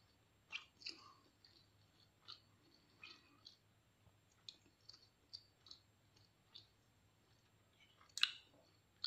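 Someone bites into and chews odading, an Indonesian fried dough, giving soft irregular crunchy clicks and mouth sounds close to the mic, with one sharper crunch near the end and no talking.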